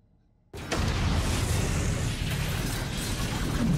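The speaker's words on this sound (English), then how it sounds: "How big is that explosion gonna be?" Explosion from the TV show Fallout: a sudden loud blast that erupts and sustains as a dense, roaring rumble with crackling debris for several seconds before cutting off.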